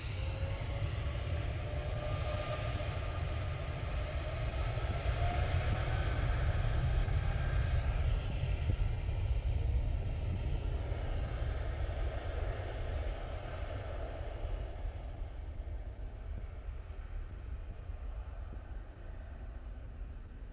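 Jet roar from an IndiGo Boeing 787 Dreamliner landing at Manchester Airport, a steady broad rumble that holds strong, then slowly fades as the aircraft rolls away in the distance.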